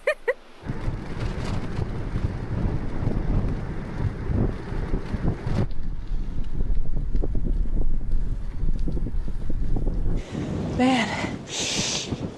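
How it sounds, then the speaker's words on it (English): Strong wind buffeting the microphone while cycle touring, a loud low roaring rumble that gusts steadily for most of the stretch, then eases near the end as a voice comes in briefly. "this wind is a killer right now."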